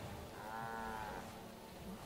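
A cow in the game Guild Wars 2 gives one long drawn-out moo, up close and clear over a low steady background bed.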